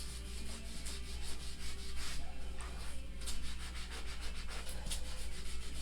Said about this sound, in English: I'm just scrubbing this off a little because, again, I don't want it sitting on there